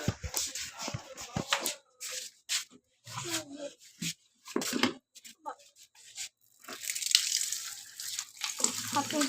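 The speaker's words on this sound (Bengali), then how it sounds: "এখন আমরা হাত মুখ ধুয়ে নিই।" Water splashes and runs as hands and face are washed at a grandmother's home, in intermittent close bursts, with people talking throughout.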